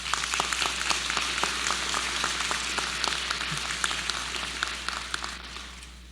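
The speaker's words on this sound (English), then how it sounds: "Why don't we give a round of applause to this university?" An audience at a business school convocation claps steadily for the university, with crisp individual claps standing out over a broad wash of applause that fades slightly toward the end.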